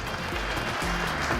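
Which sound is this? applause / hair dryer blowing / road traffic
applause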